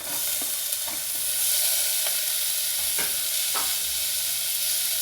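Chopped ridge gourd sautés in a hot pan, giving a steady broad sizzle with several soft stirring scrapes spread through it, close and continuous, with no voices.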